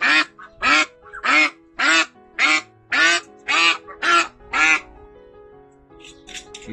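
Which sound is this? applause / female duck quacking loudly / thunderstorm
female duck quacking loudly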